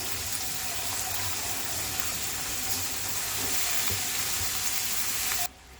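Cabbage, washed in hot salted water, frying in a pan with a dense, continuous loud sizzle and hiss up close, cutting off abruptly at the end, no voices.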